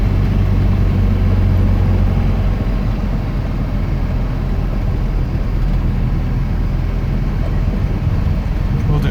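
A 1967 Alfa Romeo Giulia Super on the move, its engine a steady low rumble with road and wind noise, loud and close from inside the car and unbroken throughout.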